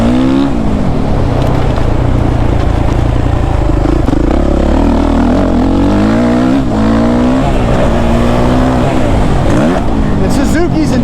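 A Suzuki RM-Z 450 motocross bike roars up close while being ridden, its engine pitch rising and falling steadily through gear changes across the whole stretch.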